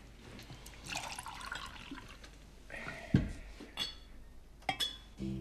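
Water poured into a glass at a dinner table: a soft trickle and gurgle of filling, broken by a few light clinks of glassware and a sharp knock, all fairly quiet and close.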